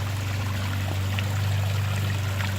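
Water from a recirculating pondless waterfall in a front-yard rock garden spills steadily over a small spillway, a close, continuous splashing stream with no pauses and no voices.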